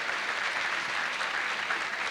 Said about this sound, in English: One more round of applause for our 20-year award recipients.